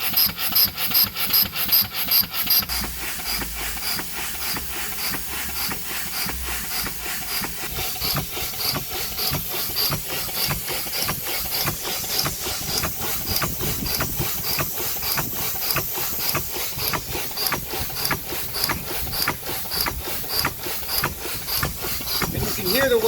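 An engine-driven wet air pump runs steadily, its rapid rhythmic rasping and rubbing strokes repeating close by across the whole stretch, with a brief faint voice near the start.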